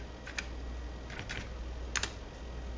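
A few light, sparse keystrokes on a computer keyboard, clicking faintly in short clusters over a steady low hum with no talk.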